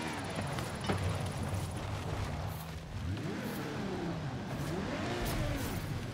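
A 1,000 horsepower Ferrari FXX K engine in a racing sim game revs faintly beneath background noise, its pitch sweeping up and down through several quick throttle changes.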